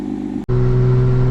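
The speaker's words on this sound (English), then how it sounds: "Just let the car warm up." A BMW 335i with a single-turbo conversion idles loud and close while warming up, a steady low rumble with a brief cut near the start before the idle settles back in.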